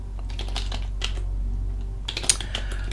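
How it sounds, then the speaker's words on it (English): Quick, irregular clatter of a computer keyboard as a password is typed, key presses close and distinct over a steady low hum, a brief pause in the middle before a denser burst of keystrokes. "Just gonna type."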